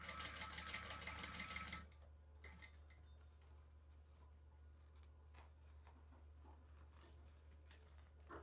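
Sewing machine running close and steady while topstitching a bag seam, whirring for about two seconds and then stopping, followed by faint handling taps and rustles.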